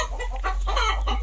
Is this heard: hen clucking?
yes